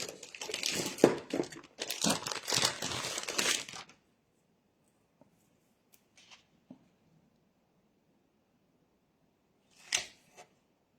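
Double-sided tape crackles and crinkles up close for about four seconds as it is peeled and pressed onto a 2026 desk calendar easel with a sticky-note holder, then sparse faint taps and a short rustle in near silence.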